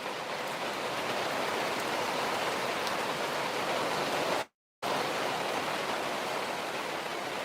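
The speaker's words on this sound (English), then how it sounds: "Here comes that rain." Steady rain hisses down in a dense, even patter, broken only by a brief moment of silence midway before resuming at the same level.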